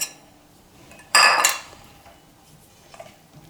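A spoon clinks and scrapes against a bowl in one short burst while beaten eggs are stirred into a spinach and goat cheese filling, followed by a few faint taps.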